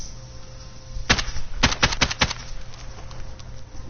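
In Call of Duty Modern Warfare, a single loud gunshot is followed by a tight burst of about five rapid shots. Faint background noise sits under them, and no one speaks.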